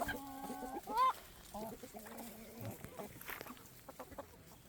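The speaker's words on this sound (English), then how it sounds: "This is my favorite, actually, the golden Wyandotte." A golden Wyandotte hen clucks and makes short, rising calls up close on a homestead, then softer clucks and scratching sounds follow. The birds are alone with no talking.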